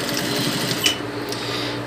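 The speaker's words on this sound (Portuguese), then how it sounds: "Aqui então eu vou bem aqui na beiradinha e passo a costurinha" A sewing machine stitches the seam of a child's blouse, a steady close whirring run of rapid needle strokes with a brief louder bump midway, continuing alone without talk.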